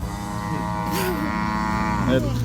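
Cattle moo in a rural Thai pen, a long, loud, tonal low moo with a wavering pitch stretching across the whole clip, close to the listener, with a second shorter call near the end.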